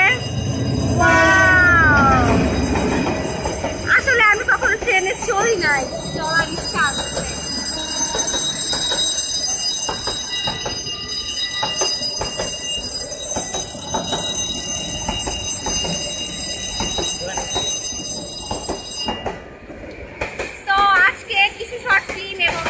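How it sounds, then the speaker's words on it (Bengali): A train rumbles past close by, with loud horn blasts and squealing wheels over a steady rolling roar; a person speaks briefly underneath. "এই দেখো ট্রেন চলে আসছে"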